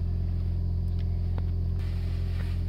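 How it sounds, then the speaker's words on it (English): A 2016 Toyota Yaris Hybrid running while parked in the snow, with a steady low engine hum and a few faint clicks inside the cabin, and no talking. "and you can still hear motor"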